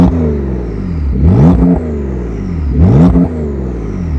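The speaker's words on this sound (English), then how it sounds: "let's open up those valves" A Porsche 992 911 engine revving with the exhaust valves open, two sharp loud throttle blips climbing and dropping back to a rumbling idle, close up with no voices.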